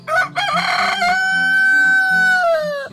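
A free-range rooster crows loudly and close by, one long sustained cock-a-doodle-doo rising sharply and then holding steady for about two seconds in a forest setting.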